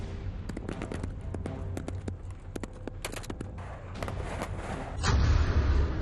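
Gunfire from air firing along the Line of Actual Control in eastern Ladakh, heard as scattered sharp shots and short bursts over steady low rumble, ending in a louder noisy wash.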